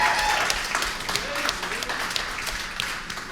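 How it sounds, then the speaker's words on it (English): Applause from a concert audience for the band, a dense wash of clapping with scattered sharper claps, fading gradually over a few seconds, with a faint voice in the background. "can we give another round of applause for them?"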